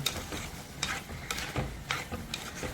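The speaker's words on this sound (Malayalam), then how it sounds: "നമുക്കിത് ഒന്ന് ഇളക്കി നോക്കാം" Green chilli pickle being stirred in a pan, with a steady soft sizzle of frying and repeated scraping strokes of the spoon at an uneven rhythm, close up and with no voices.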